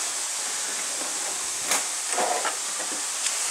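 Tomatoes tipped into a hot pan of browning meat for a wholegrain spaghetti Bolognese, giving a steady soft hiss with a few brief louder crackling bursts, no voices.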